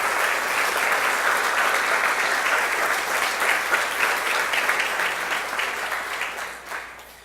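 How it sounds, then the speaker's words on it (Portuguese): A church congregation applauds together during a morning service, a loud, dense, sustained clapping that fills the room and then tapers off toward the end. "Assentando-se, eu queria que você aplaudisse e glorificasse o nome do Senhor."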